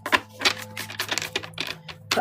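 A deck of oracle cards is shuffled by hand, giving a quick series of crisp papery riffles and taps in irregular bursts, close and fairly loud over a low hum with no talking.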